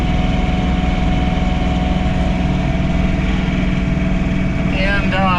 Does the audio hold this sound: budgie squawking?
no